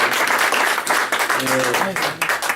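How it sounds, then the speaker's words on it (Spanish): A church congregation claps together during a service, dense steady applause throughout, with a voice speaking over it partway through. "Denle un fuerte aplauso a Dios por las personas nuevas que están en este lugar."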